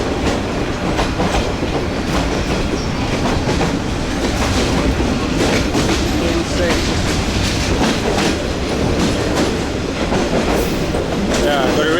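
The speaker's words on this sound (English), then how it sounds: "Literally centimeters away from touching the train." A train rolls past at extremely close range along a narrow street in Vietnam, with loud continuous rumble and rhythmic clickety-clack of wheels on rails filling the whole stretch, with some voices faintly audible beneath.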